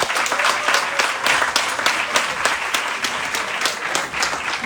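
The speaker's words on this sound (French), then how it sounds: "Ça s'applaudit s'il vous plaît." Lively audience applause at a conference in Dimbokro, dense clapping from many hands filling the room at a steady, loud level with a few sharper individual claps standing out, no speech over it.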